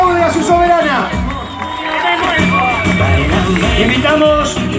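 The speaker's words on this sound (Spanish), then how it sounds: "esta es la gente y el pueblo de su ciudad que ovaciona y aplaude a su soberana" A carnival crowd in 25 de Mayo, Buenos Aires, cheers its newly elected local carnival queen: a loud, continuous roar of shouts and whoops from many voices close by.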